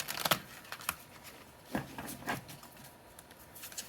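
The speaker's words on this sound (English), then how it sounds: "I'll try to shuffle quietly." Soft, scattered papery flicks and rustles of tarot cards being shuffled quietly, in short irregular bursts close to the microphone.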